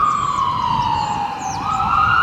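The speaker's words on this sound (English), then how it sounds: "Wait for this ambulance to go by." Ambulance siren passing along a city street, a loud wailing tone gliding slowly downward then rising again over steady traffic rumble, with no voices.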